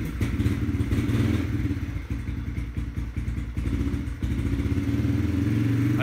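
A Yamaha TTR230 dirt bike engine idles roughly in freezing 25-degree cold with the choke on, a steady close chugging with uneven thumps and clattery misfires throughout.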